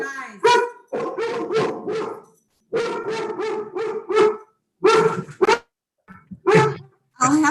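Several dogs bark in repeated bursts, loud and close, in a home during an online meeting, with people talking in between the barks.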